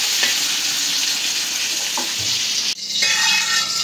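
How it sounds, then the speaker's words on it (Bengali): Large rupchanda fish fry in hot oil with a loud, continuous sizzle, punctuated by a few soft stirring knocks and a brief dip before the crackling surges back. "মাছটা এক পিঠ ভাজা হয়ে গেছে"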